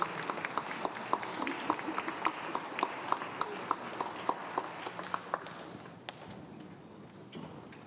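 Congregation applauding during a service at a synagogue, scattered individual hand claps ringing out in an uneven rhythm over a murmuring room, thinning out and fading toward the end.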